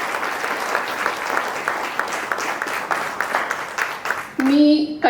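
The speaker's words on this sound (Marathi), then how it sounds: "त्यांच्यासाठी एक जोरदार टाळ्या होऊन जाऊ" An audience at a Marathi forum session claps for the chair and speakers: a steady burst of applause from a seated crowd, ending abruptly as a voice comes in near the end.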